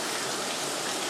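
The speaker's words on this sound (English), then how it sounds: "I just kind of wanted to show you guys this wonderful rain that we're having today" Steady rain pours down in Gilbert, Arizona, a dense, even hiss of drops on surfaces filling the whole moment without a break, close and fairly loud with no voices.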